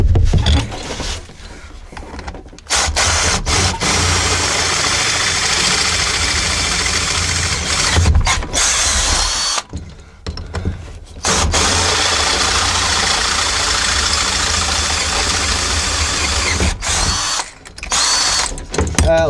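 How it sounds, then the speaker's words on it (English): A power drill with a 5/16 bit whines steadily as the bit bores in, stopping and restarting several times with short pauses between runs. "That was a much better drill bit"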